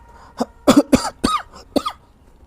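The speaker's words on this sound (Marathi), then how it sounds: "खोकला आला होता" Five or so sharp coughs in quick succession, close and fairly loud, with short pauses between them and no talking.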